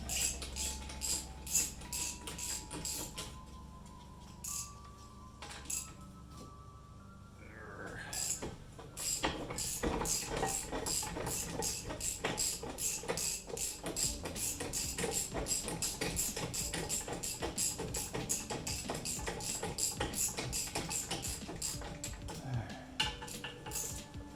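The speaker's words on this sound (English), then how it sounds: "an 18 mil socket and ratchet. And it'll fit in there. It'll go quicker than just wrenching it." Ratchet with an 18 mm socket working on the rear brakes of a 2011 Cadillac SRX, some metallic clinks and handling noise first, then a long run of rapid even ratchet clicks.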